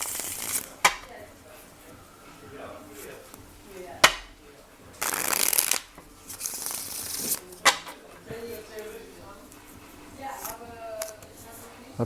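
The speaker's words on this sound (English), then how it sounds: "We'll do 3 shuffles" Tarot cards being shuffled in several bursts, with crisp riffling and sharp snaps, close by and fairly quiet, separated by softer handling sounds.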